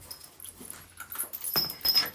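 A dog whimpers at a farm where a cow has just given birth, with soft, thin whines close by and a louder, higher yelp near the end, all set against quiet background noise.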